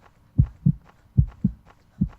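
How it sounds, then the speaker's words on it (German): A heartbeat simulator in the Jeff the Killer horror video game thumps in dull, low double beats. They are close and steady, roughly one pair per second, with no voices over them. "Nur so ganz leichtes, dumpfes Laufen und natürlich diesen Herzschlag-Simulator."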